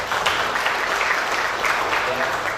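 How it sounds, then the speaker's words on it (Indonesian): Dense, steady applause fills a press conference in Jambi about land crime cases, a continuous wash of clapping with voices mixed in. "Tepuk tangan untuk Jambi"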